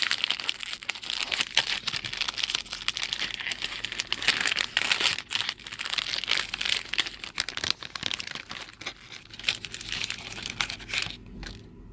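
Crinkly plastic wrapper of a Lenny and Larry's snack bar torn open by hand, with a steady run of close crackling and rustling for most of the stretch, easing off near the end.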